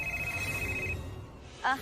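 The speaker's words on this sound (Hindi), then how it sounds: "ये तो उसी का फोन है" A mobile phone rings steadily with a thin electronic tone in a TV drama scene, cutting off partway before a voice answers it at the end.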